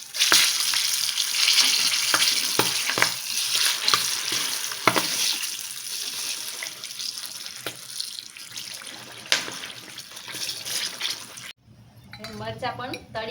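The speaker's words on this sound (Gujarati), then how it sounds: "મરચાં પણ તળી લીધા છે" Hot green chillies fry in oil in a pan, giving a steady, loud sizzle and crackle that runs unbroken for about eleven seconds before stopping abruptly, followed by a brief voice.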